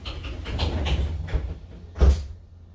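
A Mercedes O 530 G articulated bus door slides and thumps through an opening and closing cycle, with mechanical rattles and a firm closing knock near the end.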